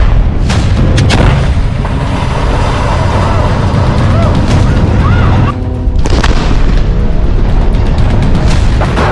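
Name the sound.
artillery fire booming in Gaza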